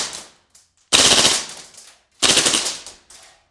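A gas-powered airsoft rifle fires rapid full-auto bursts at about seventeen rounds a second, two loud close rattling strings of shots with brief bursts and pauses between.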